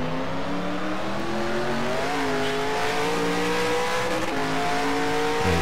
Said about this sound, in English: There's some tires screeching outside.